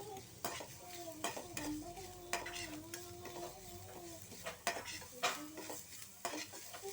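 Rice with carrots being stirred in a hot pan, with a constant sizzle and rhythmic scrapes and taps from a utensil against the pan; a faint tonal hum runs underneath and there is no speech.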